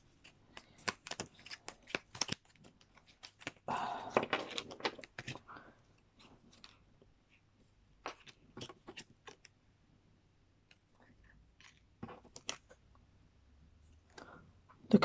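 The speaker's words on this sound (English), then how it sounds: "Just can't shuffle these little cards." Small tarot cards are shuffled close up in short bursts of soft riffling and clicking, separated by quiet pauses.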